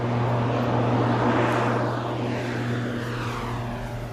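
A propeller cargo plane flying to Goma loaded with about 1.7 tons of cassiterite drones loud and steady from inside the cabin, engines humming without pause and no talk.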